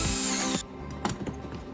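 A power drill whirs at high speed for half a second drilling through a knife handle, then stops abruptly, followed by a few clicks and knocks of handling.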